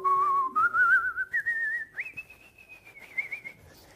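A voice whistles in imitation of an elderly grandfather's trembling whistle, a wavering tune that rises in steps over a few seconds, close and fairly soft.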